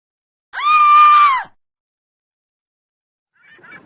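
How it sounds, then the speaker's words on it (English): Cartoon beachgoers screaming in the video game Sparky the Shark; one loud, close shriek lasting about a second, then silence and a faint second cry at the end. "They stared, then screamed and ran away frightened."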